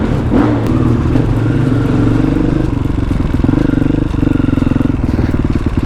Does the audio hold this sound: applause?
no